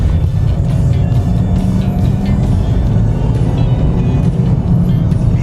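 A 2007 BMW 318i E90 engine accelerates under steady power, a loud continuous low drone heard from inside the car with faint road noise.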